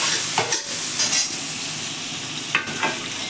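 Soybean chunks frying in oil in a pan over a lowered gas flame, giving a steady broad sizzle with a few brief stirring scrapes and louder bursts, close up and without voices.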